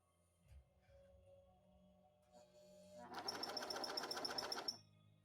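A sewing machine stitches neon ripstop nylon for saddlebags in one steady, rapid run of about a second and a half. It starts after a stretch of quiet handling noise and stops abruptly. No one speaks.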